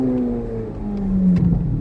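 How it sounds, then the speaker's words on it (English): A 2023 Corvette Z06 convertible downshifting on its own, the engine note dropping steadily in pitch with rising rumble, close and fairly loud, with small mechanical clicks near the end. "the car is doing the downshifting by itself"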